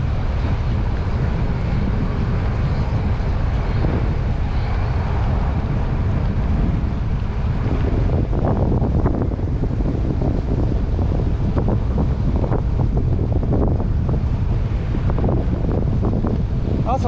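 Steady wind buffeting a microphone, a constant low rush and roar for the whole stretch, with gusts growing rougher toward the end.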